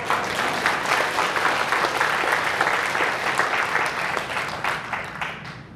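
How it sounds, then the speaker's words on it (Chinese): Monks at a Buddhist retreat talk applaud together, a dense, even burst of clapping from a sizeable group that holds steady for several seconds before thinning out at the end. "我们的法师鼓掌都比你们大声了"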